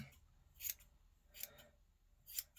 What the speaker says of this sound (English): all you'd have to do is just trim it